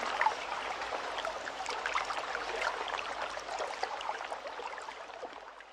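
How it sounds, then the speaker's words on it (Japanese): Water trickles and babbles continuously over rocks, a steady close-up flowing mountain stream with no voices. "渓流を流れる水の音"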